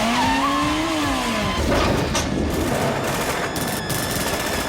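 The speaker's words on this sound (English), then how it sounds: "she fires up the trusty motorcycle to defy even more physics" A motorcycle roars to life and skids during a loud action scene from the film Lara Croft: Tomb Raider, with a rising engine whine, scraping tyre noise and a dense, continuous wash of sound effects.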